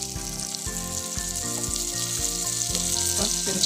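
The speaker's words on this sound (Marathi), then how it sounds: "मी या चमच्याच्या साह्याने फोडणी देणार आहे तिथे मी एक चमचावर बटर घेतला" A tempering sizzling in hot butter held in a spoon, for dal khichdi, a loud steady frying hiss close by, with tonal music running underneath throughout.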